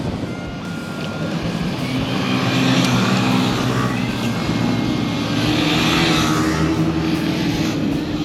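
A large group of Yamaha WR155 motorcycles rides past on a dirt flat track, a dense, loud engine roar that swells and holds steady with no talking.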